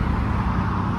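A car pulls away from a Japanese car meet in Reading, its low engine rumble steady and fairly close for a moment. No one speaks.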